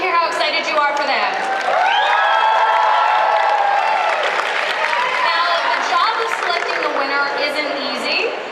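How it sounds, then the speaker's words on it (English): A cosplay competition crowd in Perth cheers and applauds for contestants, with sustained clapping, loud whoops and high shouts rising and falling throughout, full and close like a large indoor audience. "let's give them a cheer so they can hear how excited you are for them."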